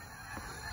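Geese honk in a dense, continuous clamor, a flock of about 15,000 heard close and loud with no voices.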